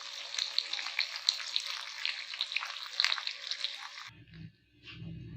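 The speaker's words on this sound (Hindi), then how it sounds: "बस भिंडी तकरीबन हमारी फ्राई हो गई है" Okra (bhindi) sizzles and crackles in oil in a wok, a dense bright frying hiss that stops abruptly near the end, followed by a few soft low clunks.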